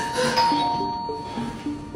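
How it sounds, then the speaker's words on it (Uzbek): A doorbell rings with a clear electronic chime, one bright ding-dong tone followed by fainter lingering notes, close by in a quiet room. "to'satdan eshik negadir yana jiringladi"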